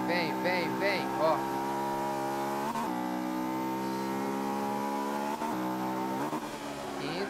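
Honda S2000 engine in Forza 5, screaming high revs that climb steadily, break with quick shifts into higher gears and climb again, loud and close, with someone talking over it.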